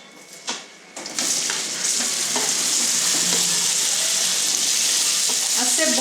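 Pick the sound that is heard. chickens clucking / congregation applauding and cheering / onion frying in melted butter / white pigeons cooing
onion frying in melted butter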